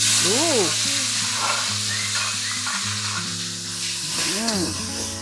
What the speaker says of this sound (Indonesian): Nah, iki ebine digoreng sik lho